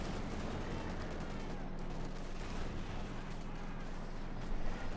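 Light machine guns fire on Grenadier squads in a Company of Heroes 2 battle. A dense, unbroken rattle of rapid gunfire and battle din holds steady throughout, with no voices.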